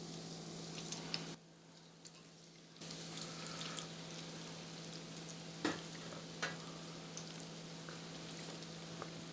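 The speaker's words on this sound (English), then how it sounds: "Once your oil's hot, you're going to drop your balls in 5 at a time" Mac and cheese balls frying in hot oil, a steady soft sizzle with occasional brief crackles and pops, quiet and close, with no talk.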